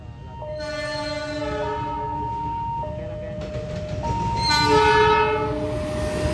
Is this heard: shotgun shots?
no